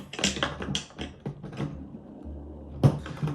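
Bolts are tightened to fix skateboard trucks onto a deck, heard as a quick run of close, dry clicks and taps with short pauses, then one sharper knock near the end, no talking.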